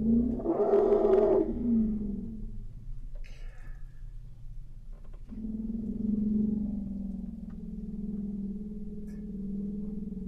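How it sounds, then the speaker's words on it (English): Deep elephant rumbles in the wild come as a long, loud low growl and then, after a pause, a second sustained low drone, with no voices present. "These are the sounds that elephants use to coordinate their movements across very long distances."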